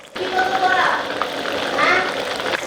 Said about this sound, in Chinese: 油温5到6成热，下入鸡翅给它炸一下